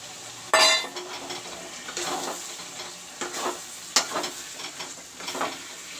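Tomatoes drop into a pan of sizzling browned masala with a sharp hiss, followed by steady frying and the intermittent scrape and clink of a spoon stirring against the pan.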